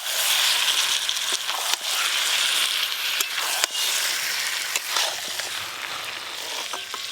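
Chicken pieces hit hot oil in a spiced tomato masala for chicken kosha, giving a steady close sizzle with occasional sharp clicks of utensils against the pan.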